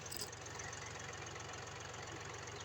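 A homemade mulcher tiller runs in a field, giving a faint, steady engine drone with a rhythmic knocking pulse throughout and no voices.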